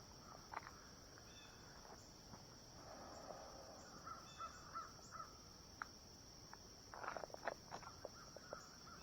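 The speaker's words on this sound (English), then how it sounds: "Very quiet, except for the birds chirping and that sort of thing" Birds call intermittently in quiet countryside near an old 1905 river bridge over the Caney River, including a few harsh caws, over a constant high insect drone and faint ambient rustle.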